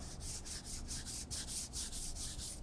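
A hand rubs back and forth over car glass with embedded contamination, giving a close, steady, raspy scraping in about a dozen even strokes.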